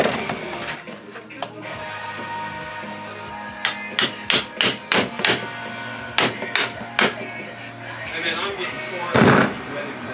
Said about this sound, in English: you take a hammer and you smack